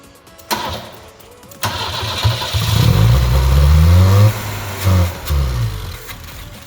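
A 1974 BMW 2002 barn find coughs and catches after two brief cranking bursts, then revs loudly on the throttle with rising and falling surges, dips, and blips again near the end.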